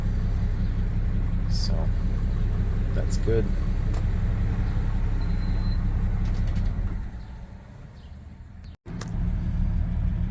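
A 1958 Plymouth Plaza engine idles steadily in drive with the parking brake set, a low continuous rumble that briefly dips before resuming, with a short spoken remark and faint birds in the background.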